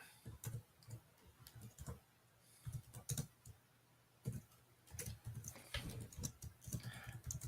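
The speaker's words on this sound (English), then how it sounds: "Typing away." Someone types on a computer keyboard, with quiet, irregular bursts of clicking keys separated by short pauses.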